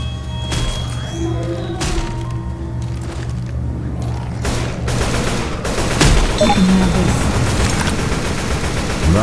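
Rapid gunfire bursts in the zombie shooter Left 4 Dead 2, repeated sharp shots over a steady low game rumble, growing denser and louder toward the end with no speech.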